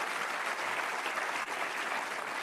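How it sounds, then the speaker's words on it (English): Steady, dense applause from a festival audience at an institute in Pune honouring a guest, loud and continuous throughout with no talking over it. "huge round of applause for Mr. Shrikant."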